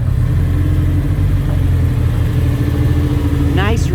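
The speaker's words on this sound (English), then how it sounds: "Come on, son, give her some gas." A car engine idles and revs at an outdoor car show, a loud close rumble holding steady, with people talking nearby and a short whistle-like squeal near the end.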